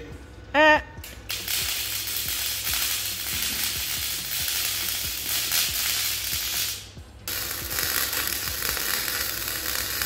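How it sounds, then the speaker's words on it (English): Welding on the metal roof deck frame of a short school bus conversion, a loud continuous crackling sizzle close by, interrupted by a short pause and with faint rhythmic ticks underneath; a brief tone sounds at the start. "Once everything was in place, it was time to weld."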